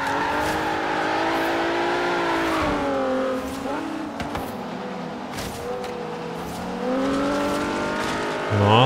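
A Nissan 370Z races in Forza Horizon 3, its engine note climbing and falling through gear changes with a brief tire squeal, loud and steady throughout, while a player talks quietly beneath the engine.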